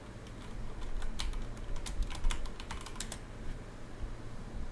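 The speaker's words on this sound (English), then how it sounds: "Typing." Keys clatter on a computer keyboard in an irregular flurry of close, fairly quiet taps over a low background hum, with no talking.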